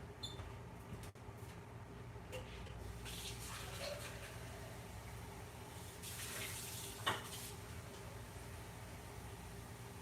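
Tap water runs steadily into a sink at an indoor home faucet, a soft, even hiss lasting about ten seconds with a faint clunk near the end and no talking.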